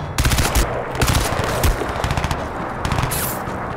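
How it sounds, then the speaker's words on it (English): Automatic weapon fire in a Crysis 2 firefight: loud, close bursts of rapid shots with short gaps between volleys, sustained over a dense battle background with no talking. "here I'm just engaging the enemies so you can get a feel for, you know, the firefights and the gunplay"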